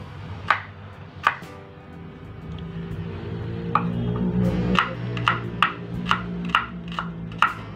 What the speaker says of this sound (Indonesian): Bawang merah diiris, bawang putih diiris.